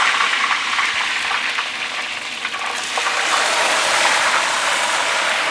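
Onion paste, a ground mix of big onion and shallots, sizzling in hot oil in a pan after dried red chillies for a spicy Kerala fish-head curry. A steady, loud broadband fry hiss runs throughout with no talking.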